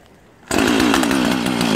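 A gasoline chainsaw engine catches after a quiet moment and roars into a loud, steady buzzing idle, close by.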